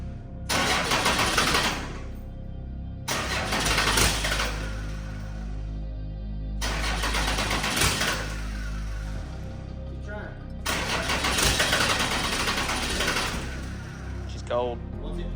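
Cummins diesel engine in a squarebody truck cranking in repeated bursts, with loud broadband starter and engine noise separated by brief pauses, running on fuel drawn through hoses; speech occurs alongside.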